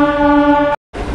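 Loud, close horn blast from a train pulling out of Bankura Junction, a single sustained tonal honk that cuts off abruptly, followed by rumbling rail noise.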